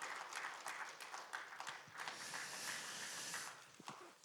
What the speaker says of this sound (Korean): 여러분 다시 한번 박수를 보내주실까요?